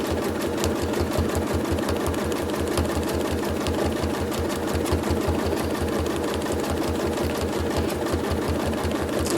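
A sewing machine fitted with a ruler foot runs steadily through free motion quilting, a fast, even mechanical chatter of stitches with a low motor hum, loud and close throughout without pause.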